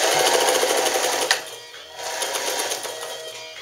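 Alden manual zigzag sewing machine stitching, a smooth rapid mechanical whir with a soft click midway, close and steady over a few seconds.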